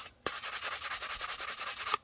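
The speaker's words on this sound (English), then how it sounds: "120 grit drywall sanding sponge." A 120-grit drywall sanding sponge scrubs steadily across a pistol thigh rig in quick repeated back-and-forth strokes, close and fairly quiet, with nothing else heard.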